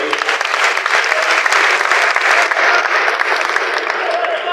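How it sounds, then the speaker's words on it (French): A crowd at a stage event in Kinshasa breaks into loud, sustained applause, with dense clapping and a few sharper individual claps standing out near the front of the sound. "Messieurs et dames, est-ce qu'on peut applaudir pour l'IGF?"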